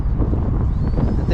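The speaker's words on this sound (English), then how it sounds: "Too windy." Strong gusty wind buffets the microphone at a model plane flying field on a windy day, a steady loud rumbling roar with a faint motor whine rising over it.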